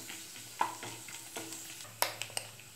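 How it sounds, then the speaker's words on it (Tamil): Urad dal, dry red chillies and peanuts fry in a pan with a quiet sizzle, broken by a handful of soft clicks and scrapes as they are stirred; faint and close. "உளுத்தம்பருப்பு, வரமிளகாய், வேர்க்கடலை இது எல்லாத்தையும் ஆட் பண்ணி நல்லா ஃப்ரை பண்ணிக்கலாம்"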